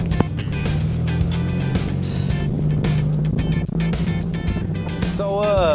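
A 1986 Honda car's engine running as it drives along, a continuous steady hum with road noise and scattered knocks and clicks, rising slightly at the end.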